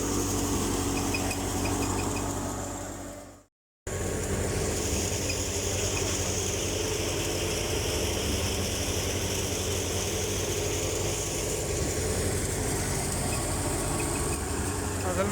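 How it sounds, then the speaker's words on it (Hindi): A tractor engine drones steadily and loudly throughout during wheat threshing, a continuous low rumble with a brief cut near the start. "असल में ट्रैक्टर की आवाज़ है साथ,"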